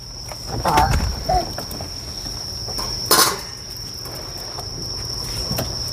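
Steady high-pitched cricket chirping runs throughout on a terrace at night, with a couple of brief louder rustles or knocks near the start and middle.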